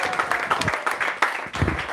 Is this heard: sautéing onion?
no